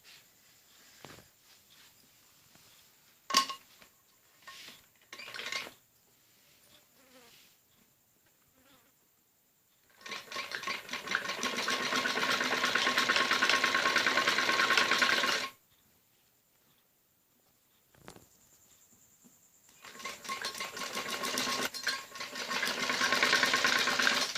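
Sewing machine stitching piping onto a kameez neckline, run in two sustained bursts of steady whirring with a quiet pause between them and scattered handling clicks beforehand.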